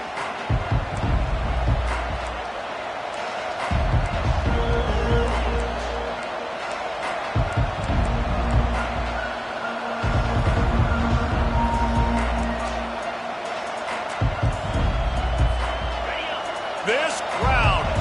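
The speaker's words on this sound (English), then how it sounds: "This crowd, full throat, spreading the eardrums and letting them know it's going to be a long day" A full football stadium crowd roars in a continuous loud wash, with swells and bursts of cheering, while a commentator talks over it throughout.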